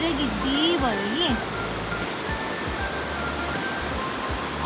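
A mountain river rushes in a steady, broad wash of water noise along a hiking trail, close and continuous, with voices talking over it early on.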